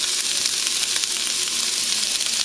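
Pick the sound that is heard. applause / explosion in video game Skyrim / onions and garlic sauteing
onions and garlic sauteing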